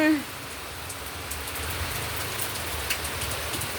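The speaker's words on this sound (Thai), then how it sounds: "ฝน" Steady rain pattering on surfaces nearby, a dense continuous hiss with a brief voice at the very start.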